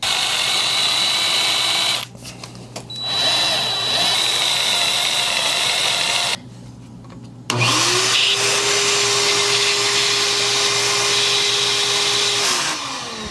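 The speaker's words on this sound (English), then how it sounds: "Low and slow is the best when drilling out metal." A steady, loud mechanical whine of a drill boring into metal on a Yamaha 1200R carburetor, running continuously at low speed, with brief dips in level, then a rising motor tone that holds steady near the end.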